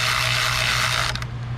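A ratchet tightens 10 mm nuts onto the ignition coil studs in a Jeep engine bay: a close, steady run of fine clicking that briefly sharpens and then eases off near the end.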